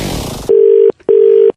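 A telephone line tone on a prank call plays as two loud, long, steady beeps separated by a short gap, following a brief burst of noise at the start.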